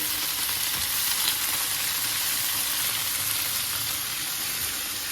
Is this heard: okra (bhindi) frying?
yes